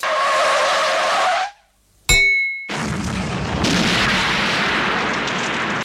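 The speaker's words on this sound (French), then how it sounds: "la scène où une voiture allemande heurte une Ford Pinto et la fait exploser" A film scene of a German car striking a Ford Pinto that explodes: loud tire screech and roaring engine noise, a sharp impact crack after a brief gap, then a sustained rumbling blast and debris noise, close and full, with no speech.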